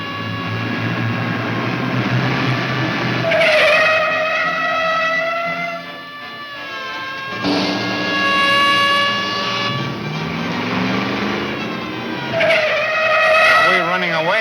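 A car in a 1942 chase swings around fast, engine roaring loudly with squealing tires, the revving whine surging and fading twice, with voices and music underneath.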